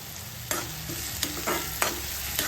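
Crushed onion, chili and ginger sauté with cumin in a pan, a steady close sizzle broken by several scraping stirs of a spoon.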